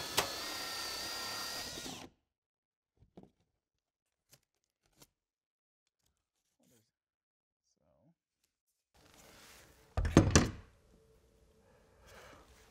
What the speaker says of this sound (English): we're gonna drill a hole through this into the wall and ceiling